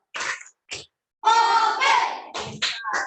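Children in an Indonesian classroom perform the tepuk salut routine, chanting together in short bursts with hand claps mixed in, then a longer sustained group chant, loud and close.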